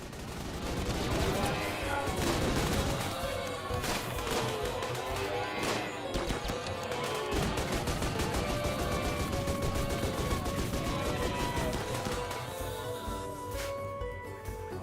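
Dense, overlapping gunfire from a colony battle in the video game RimWorld, a continuous chaotic clatter of shots and crashes layered with game sounds and music, steady in loudness throughout.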